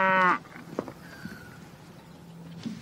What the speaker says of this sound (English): nice cow